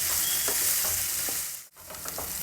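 Onions sizzle steadily while frying in a pan for a Punjabi dhaba-style chana masala, with occasional stirring scrapes and a brief dip near the end, no voices.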